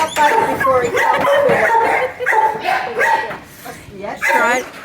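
A pet dog barks and yips in a rapid, loud, close series of bow-wow calls with brief whimpers, while people talk nearby.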